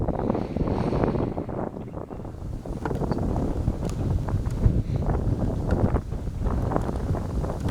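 A strong headwind blows steadily across a funneled disc golf tee, loud, continuous gusting buffeting against the microphone with low rumbling roar and no voices.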